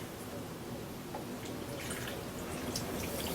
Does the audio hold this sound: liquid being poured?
yes